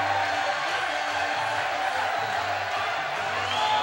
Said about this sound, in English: Laverne's crowd is currently getting hyped up to La Chona